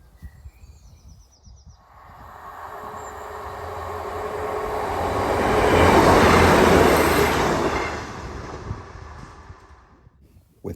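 Train on the Tyne Valley Line passing a foot crossing at Haydon Bridge station, a steady rumble that swells as it nears, peaks in a loud roar mid-pass and fades away, with faint birdsong at the start.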